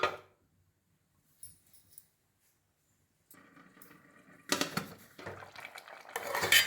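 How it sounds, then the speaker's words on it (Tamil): A spoon scrapes and stirs rice upma in a metal pot made without onion, with a faint clink early on, then louder scraping and a lid clattering onto the pot near the end. "இப்போ மூடி வச்சுருவோம் நம்ம அப்பப்போ நம்ம கிளறி கிளறி விட்டுப்போம்"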